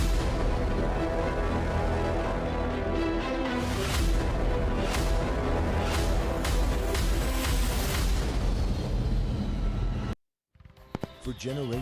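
Fireworks burst in a festive advertisement, a dense run of loud booms and crackling pops layered over music-like background sound, ending abruptly before a brief quieter tail.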